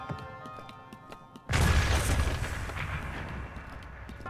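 A single loud explosion booms in a video game after a quiet stretch of light ticking, followed by a long rumbling, crackling decay that fills the rest of the moment.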